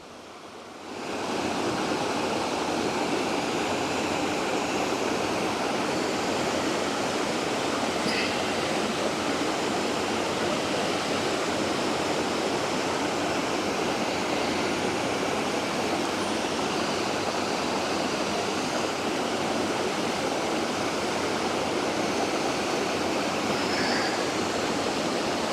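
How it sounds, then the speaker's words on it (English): Ozone Falls in autumn, a waterfall flowing well and dropping into a shady pool, heard as a steady, dense roar of rushing water that holds unchanged for the whole stretch with no voices. "the waterfall appears to be flowing pretty well"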